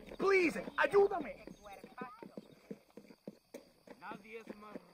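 Horse hooves clip-clop in a steady rhythm beneath voices talking, with a busy soundscape around them in the video game Red Dead Redemption.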